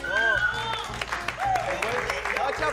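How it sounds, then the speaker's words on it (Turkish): An audience applauds a game show contestant with scattered clapping under a loud, melodic voice, and short musical tones ring out over the crowd. "Evet, Merve'yi alkışlıyoruz."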